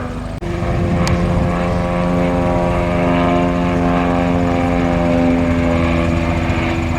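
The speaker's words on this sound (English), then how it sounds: "The Spad, the only airplane left in the sky." Propeller airplane engine during a dogfight, a loud sustained droning roar with a steady pitch, close and continuous throughout with no voices.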